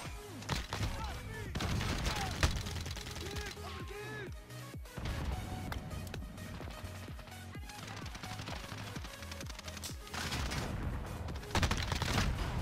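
Rapid gunfire from a submachine gun in the Call of Duty Modern Warfare video game, loud continuous bursts and crashes running through the whole stretch with a voice talking over them.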